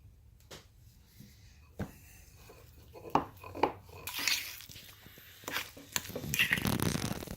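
A utensil scrapes and clinks against a bowl while honey is mixed into a soft goat cheese filling. Sparse knocks at first build into a denser, continuous scraping stir near the end, close up, with no talking.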